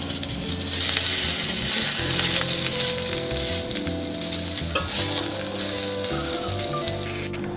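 Pointed gourd (potol) fries in hot oil in a wok, giving a loud, steady sizzle with stirring scrapes throughout and no voices.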